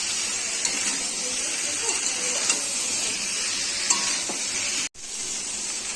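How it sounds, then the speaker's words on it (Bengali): Masala paste with chilli powder and green chilli frying and being stirred in a pan for a drumstick fish curry, a steady loud sizzle with scraping stirs, one brief dropout near the end. "আমি মশলাটাকে কষিয়ে নেবো ভালো করে"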